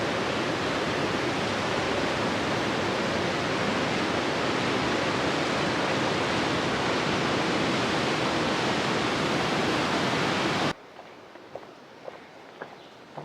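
Close, continuous rushing of the North Yuba River flowing under a bridge, a dense steady roar that cuts off abruptly near the end, leaving faint scattered knocks.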